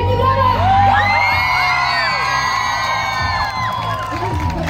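A concert crowd whoops, cheers and applauds loudly and continuously at an outdoor Polish pop show, with shouts and high-pitched yells rising over a dense roar of voices.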